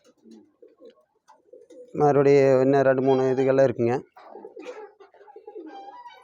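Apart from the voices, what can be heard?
pigeons cooing on a farm, Lahan and Romer breeds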